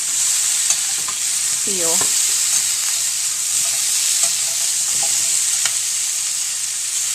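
Sweet potato slices sizzle steadily in a pan with a constant bright hiss, while scraping and clinking from turning them break through near the start and middle; a brief spoken word is heard.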